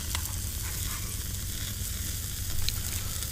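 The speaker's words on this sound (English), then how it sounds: "Steak is still grilling nicely." Steak grilling over wood coals outdoors, a steady close sizzle and crackle with faint popping, no talking.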